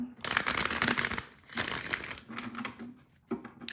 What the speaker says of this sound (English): Okay, I'll do a quick shuffle this way.